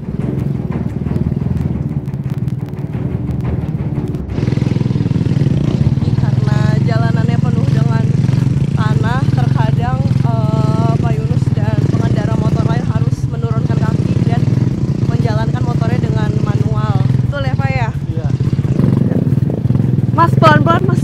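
A motorcycle loaded with clay sacks labors along a muddy oil-field road, its engine droning loudly and continuously while people talk over it.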